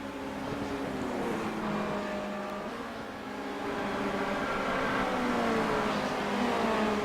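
Race cars lapping Silverstone in the sim game iRacing: a steady, droning engine whine with several overlapping tones that rise and fall as the cars work through the corners, continuous, with no talking.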